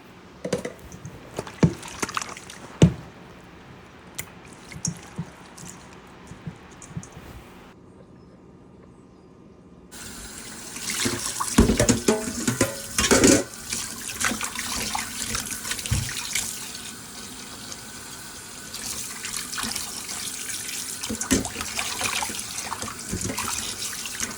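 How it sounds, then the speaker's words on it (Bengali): Fish being washed under a running tap, water splashing and trickling into a sink in bursts, with a quieter stretch before the flow picks up again and continues steadily. "এই তো মাছটা আমি ভালোভাবে ধুয়ে নেবো"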